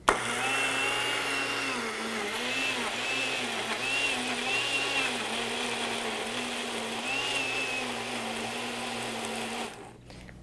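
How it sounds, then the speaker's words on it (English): A personal blender whirs steadily through a frozen fruit smoothie at a loud, even pitch with slight wavering, running alone for about ten seconds before cutting off. "now I'm going to use the blender real quick"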